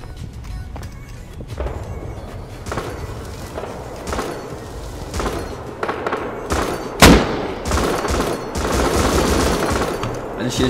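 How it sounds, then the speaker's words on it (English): Rapid bursts of gunfire during a server-wipe raid in the survival game Rust, shots cracking in dense volleys and scattered single reports, with one sharp loud blast near the middle over a steady background din. "There's so many people getting shot right now"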